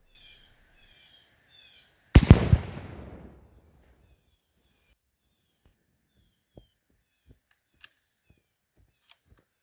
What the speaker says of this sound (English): he was shooting at around 125 yards with only iron sights